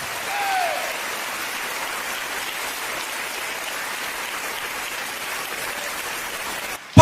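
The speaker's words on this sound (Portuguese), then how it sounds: "Pode aplaudir." A church congregation applauding, a dense, even wash of clapping that holds steady for several seconds at a distance before cutting off abruptly.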